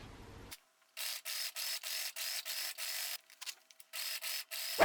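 A sewing machine topstitches a zipper onto a top fabric panel in a rapid rhythmic whir, running in several short bursts separated by brief stops, fairly close and with no voices.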